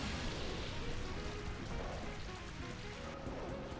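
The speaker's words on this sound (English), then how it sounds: "There's Rain Dance." The Rain Dance move in the Pokémon Colosseum video game brings a dense, steady wash of pouring rain, loud and continuous from start to finish with no voices over it.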